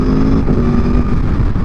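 A 2021 Aprilia Tuono V4 Factory motorcycle engine runs loud and close with a steady, rich mechanical roar and a slight shift in tone partway through.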